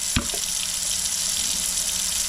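Tap water pours steadily into a clogged kitchen sink, a close, continuous hissing splash as the basin fills, with a brief knock at the start.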